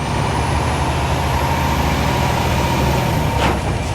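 A gravel truck engine runs loud and close with a steady heavy drone and a rising whine as it revs, plus a short hiss near the end.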